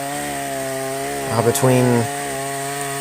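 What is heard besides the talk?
cheap Chinese chainsaw running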